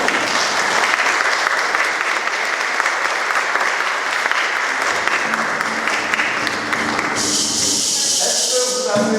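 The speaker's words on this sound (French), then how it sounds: "Nous pouvons les encourager et les applaudir." Congregation applause in a church during a profession of faith and first communion service, dense and continuous clapping filling the space, fading near the end as a voice begins speaking.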